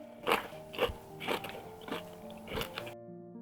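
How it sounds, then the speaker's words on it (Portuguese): Crisp, close crunching as a gourmet chocolate dessert is bitten, about five loud crackling bites in a steady rhythm with brief chewing between, ending abruptly, no talking. "Ouçam a crocância."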